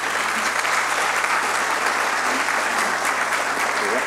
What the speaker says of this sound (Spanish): a quien pido un aplauso, por favor